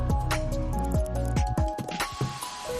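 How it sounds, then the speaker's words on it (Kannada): A thick mango thokku mixture being stirred in hot oil in a pan, with wet squishing and slapping sounds in a steady stirring rhythm, close and fairly loud. "ಈಗ ನೋಡಿ, ನಾನು ಎಲ್ಲ ಹಾಕ್ಕೊಂಡು ಒಂದು ಮಿಕ್ಸ್ ಮಾಡ್ಕೊಳ್ತಾ ಇದ್ದೀನಿ."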